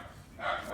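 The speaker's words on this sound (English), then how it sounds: "excuse the dogs" Dogs bark briefly in the background of a workshop, a short muffled yelp that rises toward the end of the clip, fairly faint and mixed with room noise.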